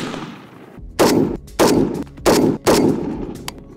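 Four sharp, loud gunshots from a PSA 5.56 Krink rifle fired at targets, evenly spaced about half a second apart, each followed by a brief echoing decay.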